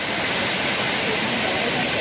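Machkanda waterfall on Ajodhya Hill, Purulia, a multi-step falls, roars as a dense, steady rush of falling water, close and loud with no pauses.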